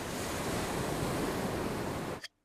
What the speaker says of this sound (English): If you put a shell to your ear, you can hear the sea.